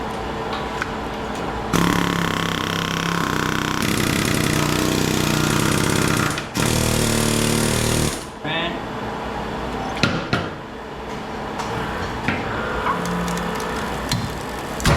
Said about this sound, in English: Hold some pressure on there and hit this with the air hammer.